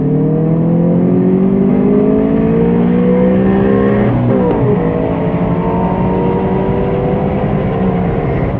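A Honda S2000 or Mazda MX5 1.5L accelerates in a second-gear roll-on, the engine note climbing steadily and loudly, briefly dipping mid-pull, then rising again, heard close and continuous with no talk.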